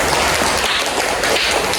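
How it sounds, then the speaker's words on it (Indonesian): Students clapping in a classroom, a dense and loud burst of applause that fills the short moment, close and with no talking over it. "Oke, tepuk tangan."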